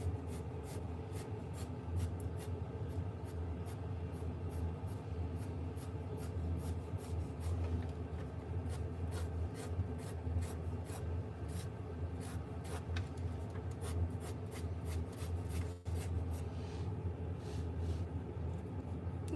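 Pencil drawing on paper, a steady run of quick, close scratchy strokes repeating throughout, quiet and continuous with no talk.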